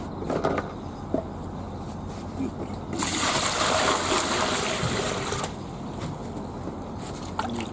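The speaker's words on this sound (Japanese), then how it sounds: "これを水で洗います" Fermented cucumber seeds being washed by hand in water, with splashing and a stretch of strong running-water gush in the middle, close by, with a voice briefly present.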